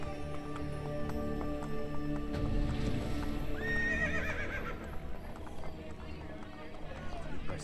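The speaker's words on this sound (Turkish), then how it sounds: "yine çağırdım atı" A summoned horse in the video game Assassin's Creed Brotherhood whinnies loudly and then gallops with rapid hoofbeats, all under steady game music and background sound effects.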